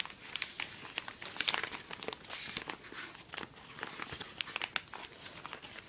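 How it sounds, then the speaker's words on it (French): Origami paper being creased and folded by hand for an Ancient Dragon model, a steady run of close crinkling and rustling with sharp crackles, no voice. "Faire un premier pli."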